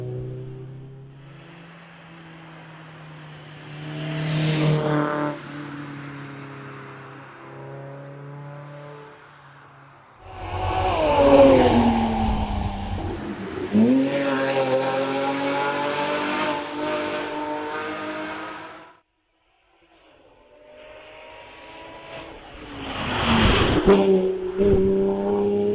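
Porsche Boxster race car at a hillclimb in Doune, its engine note rising and falling through several gear changes over about 25 seconds with loud bursts of revving, a brief lull, then another hard pull.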